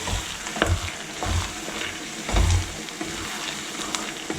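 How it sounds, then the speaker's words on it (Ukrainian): Mushrooms stirred in a hot frying pan, with sizzling under a few scraping thumps of the utensil against the pan, close up and no talk. "На цьому етапі додаю гриби. Перемішую"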